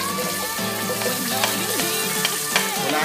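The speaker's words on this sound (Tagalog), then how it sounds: "ikikisa ko na po ang bawang" Garlic sautéing in a pan for beef mechado, a steady sizzle with occasional clinks, mixed under background music.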